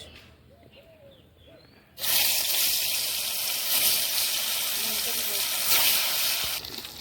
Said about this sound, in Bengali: আর মাছ ভাজার জন্য কড়াইটা বসিয়ে দিই